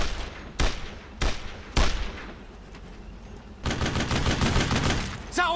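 Gunfire in the World War II shooter Brothers in Arms: Road to Hill 30, three loud single shots spaced about a second apart, then a sustained rattling burst of automatic fire.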